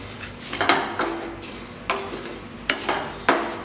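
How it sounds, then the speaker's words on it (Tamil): Cumin and fennel seeds dry-roasting in a pan for homemade curry masala powder, heard as a series of sharp metallic scrapes and clinks of a spoon against the pan, close and alone. "சீரகமும் சோம்பும் ஒன்றா சேர்த்து இதை வறுத்தெடுத்துக்கலாம்."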